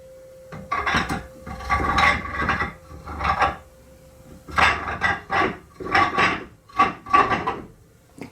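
Pulley on the rear wheel of a 2003 Harley-Davidson VRSCA V-Rod being run down onto a washer: a close series of metallic scraping and clattering bursts with short pauses between them.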